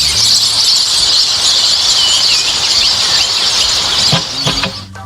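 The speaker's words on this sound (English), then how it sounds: "The sound of the birds and the echoing result attract lots of tourists to come and watch." A dense chorus of shrill bird squeals echoes continuously up a limestone shaft, loud and reverberant, with a few lower knocks near the end.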